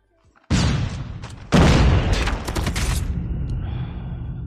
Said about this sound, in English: Oh, he's sniping.